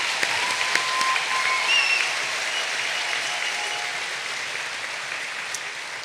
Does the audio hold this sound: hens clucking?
no